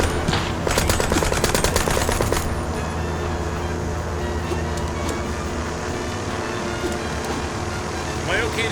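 Gunfire in the video game Mouse: P.I. For Hire, a loud rapid burst of shots in the opening seconds, then fainter scattered shots over game music.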